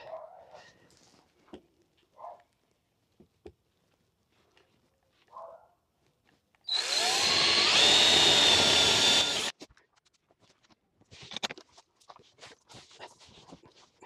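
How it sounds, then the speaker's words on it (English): A power drill bores through the corners of a wood panel for a homemade blackjack table, one loud steady burst of about three seconds standing alone between quiet shuffling and light handling noises. "I'm just drilling the corners real quick, and then I'm gonna go ahead and use the jigsaw."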